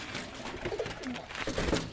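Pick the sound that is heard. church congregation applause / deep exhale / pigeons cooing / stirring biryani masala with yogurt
pigeons cooing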